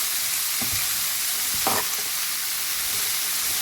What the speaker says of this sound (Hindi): इसको हर तरफ से मिला लेंगे ताकि सब पे हल्दी का रंग आ जाए।